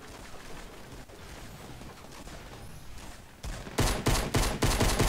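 Rapid bursts of gunfire in the video game Fortnite ring out, loud and close, firing in quick repeated volleys after a stretch of quieter background noise.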